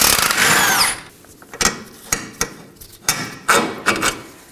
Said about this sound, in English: I'll use a wrench on the bolt side and an impact gun on the nut side.